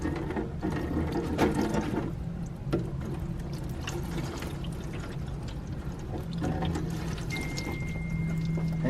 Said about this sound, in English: I'm gonna pour water directly on here from a gallon.